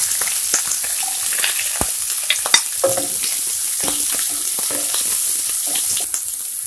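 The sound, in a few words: onions sauteing in a pan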